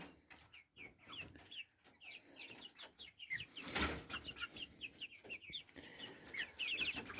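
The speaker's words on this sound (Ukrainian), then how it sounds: "Ось такі у нас курочки китайські шовкові." Several Silkie chickens cluck and chirp softly nearby, overlapping short calls scattered throughout, with a brief rustling burst midway.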